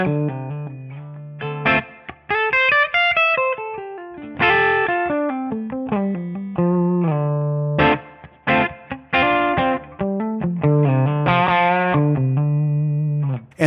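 Distorted electric guitar through a TONEX amp capture of an Inclined amp and a 1x12 cabinet, chords and single-note lines with effects, played alone at steady moderate loudness with brief pauses.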